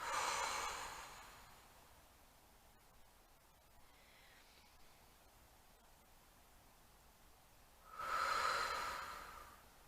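Slow deep breathing for a relaxation exercise: a long, airy breath opens the clip, a quiet pause with faint rustling follows, and another strong breath comes near the end, close to the microphone.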